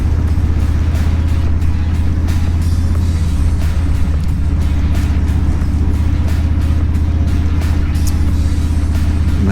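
A Harley-Davidson Street Bob motorcycle cruising on a leisurely ride in Ontario, its engine a loud, constant low rumble heard close up from the rider's position, mixed with steady wind roar.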